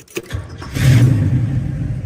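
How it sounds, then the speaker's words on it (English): The engine of a 1966 Chevrolet El Camino cranks briefly with a few clicks and turns over, then catches and settles into a steady, deep rumbling idle close by. "Start up our 66 El Camino."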